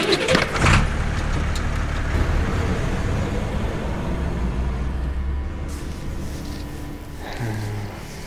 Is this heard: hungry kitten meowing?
no